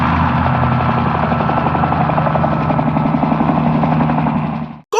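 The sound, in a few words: helicopter rotor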